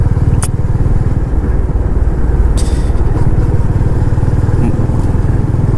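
A motorcycle rides along the Mullayanagiri hill road in Karnataka, its engine droning steadily and close throughout, with wind rush and a few brief higher clicks on top.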